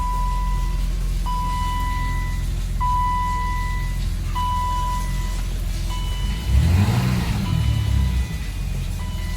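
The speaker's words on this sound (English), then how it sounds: "Motor sounds real tight and everything." Engine of a 1980s BMW 325i idling steadily, loud and close, with a repeating beeping tone over it and a brief swelling rev near the end.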